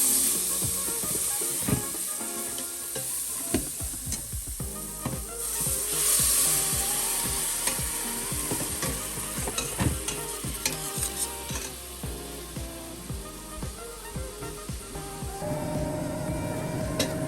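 Frying and stirring in a pot for jackfruit curry: a steady close sizzle throughout, with repeated scraping and clicking strokes of a spoon against the pot.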